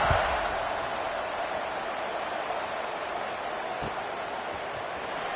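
A stadium crowd at a Utah versus Alabama college football game buzzes before a kickoff, a steady broad roar with a commentator talking over it.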